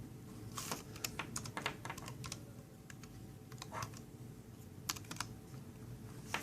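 Close, clicky keystrokes on a computer keyboard as a folder name is typed, coming in quick irregular bursts with short pauses over a low steady background hum.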